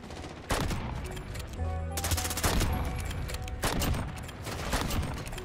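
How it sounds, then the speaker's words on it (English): Sniper rifle shots from an SPR 208 in Modern Warfare gameplay, several sharp loud cracks spaced a second or so apart, each with a booming tail over ongoing game noise. "I'm watching you shoot this sniper rifle"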